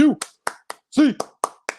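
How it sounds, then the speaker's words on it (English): A few people clap sharply in a rhythmic pattern, close and distinct, spaced in a quick cheer-like beat alongside short vocal calls, celebrating a UCLA football win. "I want another A clap."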